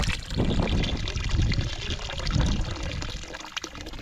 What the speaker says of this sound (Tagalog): Ay, kalakas ng tubig natin mga kabisig,